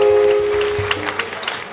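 A church congregation applauding the Lord Jesus at a prophet's sermon in Agoè, Togo, brief clapping rising under a fading tone, moderately loud and close.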